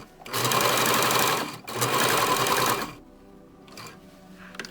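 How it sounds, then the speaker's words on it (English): Sewing machine stitching a straight seam on fabric for a DIY face mask, two loud steady bursts of rapid mechanical chatter close up, then quieter handling sounds and brief faint whirs. "lower your needle, and just sew straight."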